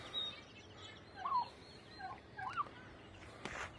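Young turkeys let out to roam gobble in a few distant, warbling bursts against a soft outdoor background, fairly faint with gaps between calls.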